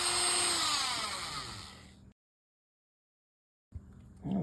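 A Dremel rotary tool with a cutoff wheel grinds at high speed on a Johnson Sprite 200 outboard boat motor, whining loudly up close, then stops for a pause before briefly spinning up again.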